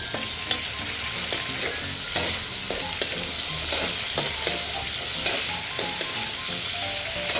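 Pork ribs fry in hot oil with a loud, continuous sizzle and crackle, punctuated by regular sharp taps and scrapes of a utensil against the pan, no speech.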